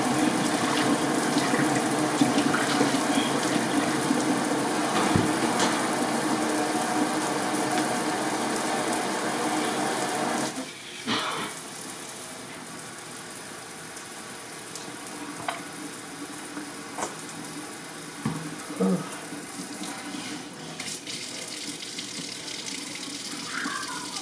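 Tap water running during a hair rinse, a loud steady splashing stream for about ten seconds, then quieter intermittent trickles and splashes as the flow is cut back.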